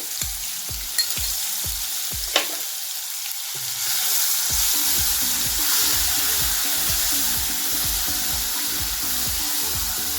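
Mustard seeds and cumin spit and crackle in hot oil for pithla, with a run of sharp pops and taps giving way to a loud, steady sizzle, close up.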